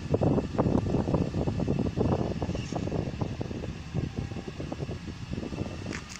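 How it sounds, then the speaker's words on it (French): A Mercedes SLK 163 hp sport convertible's electric roof motor whirs steadily and closely, a continuous mechanical hum with faint clicks throughout. "Donc là, on va vous décapoter le véhicule"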